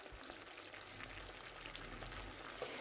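Fried onion and bacon with a little water pour from a pan into a slow cooker, a steady wet splashing and sizzling wash with faint clinks, continuous and close, with no talk.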